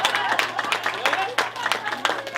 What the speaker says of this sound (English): Give Salvatore a big round of applause.